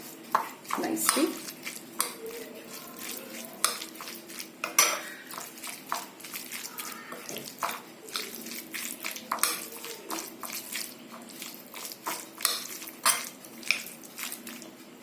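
Falafel mixture with mutton and lemon juice being mixed in a bowl, a dense run of clinking and scraping utensil strokes, close and irregular, with no speech.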